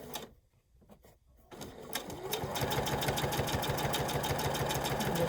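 A sewing machine stitches through fabric for a steampunk snap-on bag, starting after a brief pause and then running steadily in a fast, even mechanical patter, close and loud, with no one talking.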